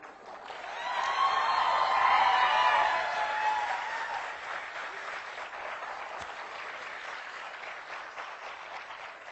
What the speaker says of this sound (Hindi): जो 10-20 कुर्सियां खाली हैं उनकी ताली भी आप ही बजा दो।